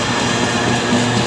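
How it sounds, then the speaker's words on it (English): A train rolling past on the West Coast Main Line at Birmingham International, loud and close, its rumble carrying a repeated low thump from a flat wheel striking the rails. "Lovely flat wheel."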